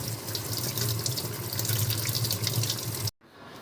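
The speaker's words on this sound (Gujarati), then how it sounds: "એને હવે આપણે પાણી વડે ધોઈ લઈએ।" Running water rinsing finely chopped fenugreek leaves, a steady splashing flow for about three seconds that cuts off abruptly into quiet.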